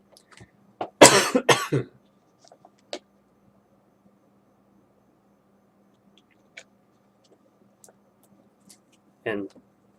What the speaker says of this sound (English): cough that apparently just doesn't go away